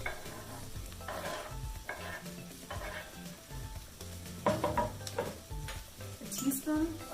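Chopped jalapeno goes into a pan of softened onions frying on the stove, with steady sizzling and stirring scrapes throughout, close and moderately loud, with no talking.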